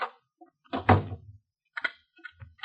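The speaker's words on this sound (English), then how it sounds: "Close the door." A door pulled shut indoors in an old radio drama, one solid thump close by, followed by brief scattered voice-like sounds.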